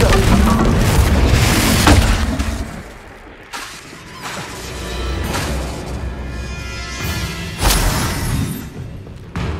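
Bombarda blasting spells explode in the video game Hogwarts Legacy, a string of loud, close booms and crashing bursts, with heavy hits near the start, midway and toward the end.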